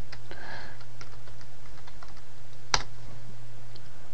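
Computer keyboard typing out an apt-get command on a Debian Linux system: soft, scattered key clicks with one sharper tap, heard alone over a steady low electrical hum.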